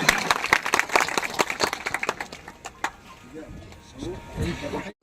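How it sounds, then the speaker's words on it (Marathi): A gathered crowd at a memorial ceremony claps hard to welcome the Maharaj, a few seconds of brisk, dense applause that thins to scattered claps while someone speaks. "सर्वांनी अगदी जोरदार टाळ्या या ठिकाणी महाराजांचं स्वागत करतो"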